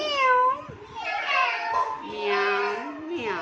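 A voice imitates a cat, drawing out several whiny meows in a row, close and fairly loud.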